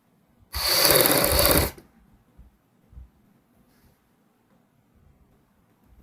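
A sewing machine stitches a saree to its lining in one short, loud burst of rapid whirring, then falls quiet apart from a few faint handling knocks.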